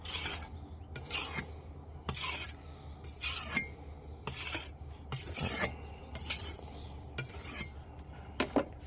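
Steady rhythmic rasping strokes of a knife drawn across a natural sharpening stone, about eight even passes with short pauses between them, close and clear with no voices.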